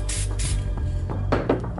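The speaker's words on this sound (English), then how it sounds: "Just spray a little bit on here." A couple of short bursts of hissing spray from an aerosol can, close by, with brief pauses between them and faint rubbing.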